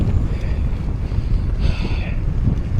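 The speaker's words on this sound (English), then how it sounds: "It's super windy right now." Strong wind buffets a microphone during a road bike ride, a loud continuous low roar with gusting texture and no break.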